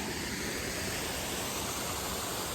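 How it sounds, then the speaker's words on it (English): A waterfall beside a road in upstate South Carolina roars as a steady, dense wash of falling water, loud and unchanging throughout with no voices. "we were gonna hike down to this waterfall,"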